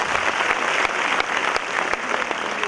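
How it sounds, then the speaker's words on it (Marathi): Enthusiastic audience applause at a student motivational program honoring exam toppers, a dense steady clatter of many hands clapping throughout, loud and close with no speech over it. "त्यांच्यासाठी एकदा जोरदार टाळ्या होऊन जायला"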